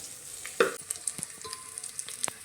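Onion frying in a pan for a spicy usal with peanut powder, a soft crackling sizzle broken by a few sharp stirring clinks and scrapes, no voices.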